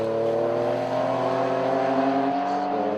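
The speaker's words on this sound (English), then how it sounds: "of the 964 as it accelerates its way up Clay Hill" A Porsche 964 race car in the Porsche Club GB 911 Challenge accelerates up Clay Hill at Oulton Park, its engine a loud, steady, rising howl held close for the whole stretch.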